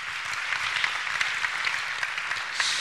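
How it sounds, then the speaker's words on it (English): Indoor audience applause at a workshop on offshore wind energy, a steady patter of many hands clapping at moderate distance, rising slightly toward the end. "So if you agree, you may applaud for that."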